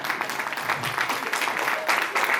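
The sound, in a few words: audience clapping for the women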